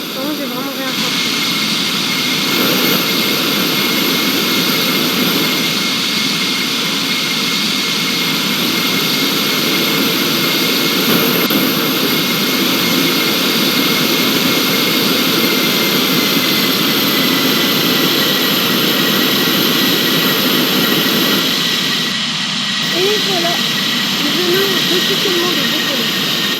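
Heard from a business-class cabin, the jet airliner's engines roar steadily during takeoff. The loud broadband whine and rumble hold constant throughout, and a person speaks quietly beneath the engine noise.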